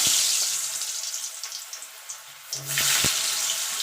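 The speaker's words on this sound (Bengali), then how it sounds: "এবার আলুগুলোকে আমি লাল লাল করে ভেজে নেব" Potato pieces frying until red-brown in hot oil, a hissing sizzle that fades midway and then surges back, with a couple of sharp knocks of a utensil against the pan.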